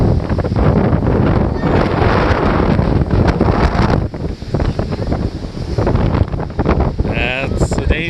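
Gusty wind roars and buffets the microphone on a beach in Waves, North Carolina, with breaking surf washing underneath in a loud, continuous rush.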